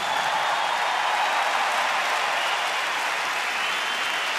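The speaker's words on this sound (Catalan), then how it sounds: "Sentim els aplaudiments" Concert audience applause in a large crowd, a thick continuous wash of clapping without breaks, even and sustained at a moderate level.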